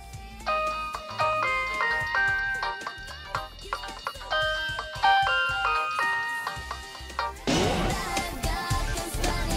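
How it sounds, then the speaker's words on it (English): A mobile phone ringtone in the PS2 game Disney's Extreme Skate Adventure plays a bright, beeping electronic tune of repeating notes for about seven seconds before a sudden burst of broad noise takes over. "I got some new ringtones for my phone"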